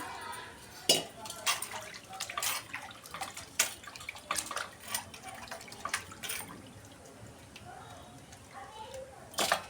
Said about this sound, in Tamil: தண்ணி ஊற்றி நல்லா க்ளீன் பண்ணிக்கலாம்.